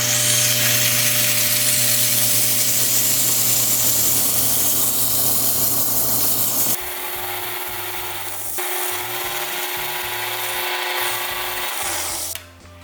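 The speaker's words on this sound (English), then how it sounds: "I'm going to go ahead and grind through that to get a flat spot" A wet gem-cutting lap grinds a flat spot on an aquamarine stone with a steady, loud, buzzing whir. The tone shifts abruptly partway through as the contact changes, and the sound drops off near the end.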